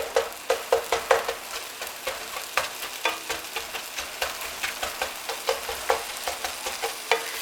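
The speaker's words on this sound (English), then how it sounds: "So what you do now is you just smash up your tomatoes." Fried tomatoes being mashed in a frying pan with onion and cooked sausage, giving a steady run of sharp, rhythmic squelching pats against the pan over a soft sizzle, close and fairly loud, no voices.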